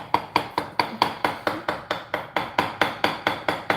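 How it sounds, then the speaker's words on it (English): Rapid, steady metallic hammer taps on a balled-up wire rivet, about four per second, close and crisp, each a sharp light strike on metal with no talking. "Oh yeah, you don't need to hammer much."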